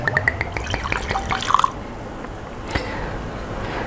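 Gentleman Jack double-mellowed Tennessee whiskey poured from the bottle gives a brief liquid trickle with small glugs and drips, then a faint clink. The sound is close and quiet, with no talk.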